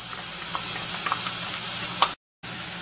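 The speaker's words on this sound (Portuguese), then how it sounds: "Agora eu misturo a cebola e vou deixar refogar." Garlic and onion sauté loudly in a hot pan, a dense, steady sizzle with light stirring scrapes, close by, broken by a brief dropout near the end.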